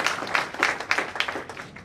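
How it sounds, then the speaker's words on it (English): An audience at a youth town hall meeting in Ibadan clapping together, a dense burst of applause that rises in uneven waves for under two seconds, close and fairly loud. "Clap for him for a second, please."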